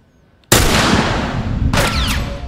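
Gunshots in The Last of Us, a sudden loud blast after brief near-silence followed by rolling echo, then a second sharp shot with trailing ringing tail, close and forceful.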